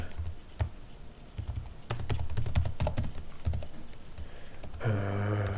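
Fingers type on a computer keyboard during programming work. Quick, close key clicks come in uneven bursts over a faint background hum, ending in a brief steadier tone.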